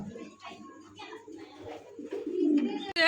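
Pigeons coo at a busy pigeon market, soft, throaty calls repeating near and far beneath people talking, with the crowd noise swelling toward the end.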